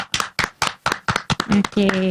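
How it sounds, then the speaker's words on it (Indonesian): A few people clap in sharp, evenly spaced bursts for the first candidate pair at a school student-council debate, loud and close, with a voice and a brief tone joining near the end. "Boleh kasih tepuk tangan dulu?"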